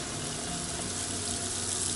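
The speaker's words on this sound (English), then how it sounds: "Now I switched it back to hot, so we're running through the hot water lines now." Water runs steadily from a tap through the hot water lines of a KZ 180 toyhauler travel trailer during de-winterizing, a continuous broadband rush with no break, close and fairly loud, with no voices.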